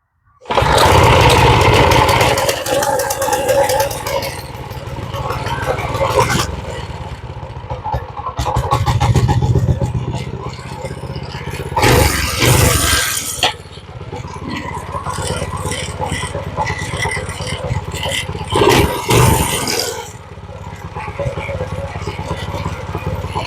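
A Coleman CT100 mini bike with a swapped-in Predator 212 engine starts and runs, its small single-cylinder engine revving up and dropping back repeatedly, loud and close with wind buffeting and a person talking at times.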